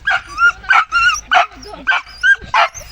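A stray dog at a rubbish dump whimpers and yips in a steady run of about six short, close, loud bursts, excited at meeting strangers.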